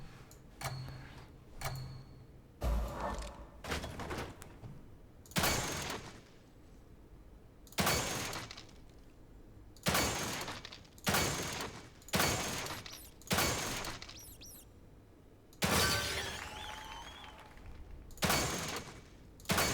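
Gunshots crack at a shooting gallery in The Evil Within 2 video game, a series of sharp, separate shots fired at an uneven pace, each followed by a short ringing decay, with quiet gaps between them.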